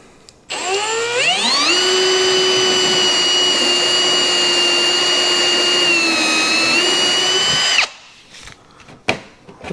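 A power drill bores a hole through a Honda Pioneer 1000 plastic panel, spinning up quickly into a steady, loud whine that holds for several seconds and then cuts off, followed by a few faint clicks.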